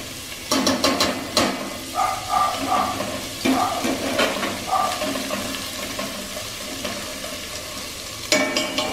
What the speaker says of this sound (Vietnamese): Để khi mà mình thấy nó đã sôi sôi rồi thì mình cho cái đầu hành trắng này vô. Mình đảo cho nó thơm.